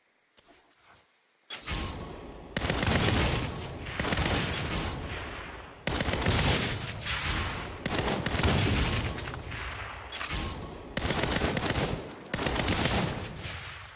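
Gunfire erupts in sustained loud bursts of rapid shots, separated by brief pauses, close and harsh, with no talking over it.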